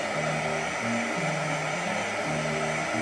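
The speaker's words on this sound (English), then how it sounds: "Let me use my little heat gun here to kind of dry it up a little bit" Small embossing heat gun drying glue on fall decor, a loud, constant close-up blowing whoosh with a steady motor hum and no pauses.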